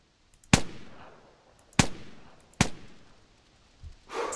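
Three sharp rifle shots fired at ptarmigan in The Hunter hunting game, each a loud crack with a decaying tail, spaced about a second apart, followed by a softer thud and rustle.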